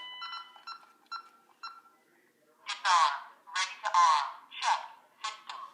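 An alarm system keypad sounds a run of four short, evenly spaced beeps as a code is entered, followed by a person talking nearby.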